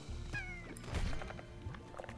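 A fat cat in the video game Slime Rancher lets out a few short meows, soft and fairly distant, with light thumps in the game's quiet background.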